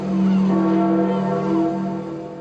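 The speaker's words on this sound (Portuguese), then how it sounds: "Os sinos da Basílica de São Pedro marcaram a saída da urna para o exterior" Church bells of St. Peter's Basilica ring out over a crowded square at a funeral ceremony, a loud sustained tolling tone with a rich hum of overtones that slowly fades, with no voices over it.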